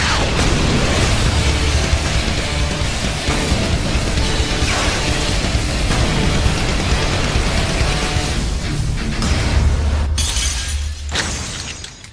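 A massive, sustained roaring blast as Saitama's Serious Punch clashes with Boros's Collapsing Star Roaring Cannon in One Punch Man: dense crashing, shattering energy for many seconds, loud and overwhelming before cutting off abruptly.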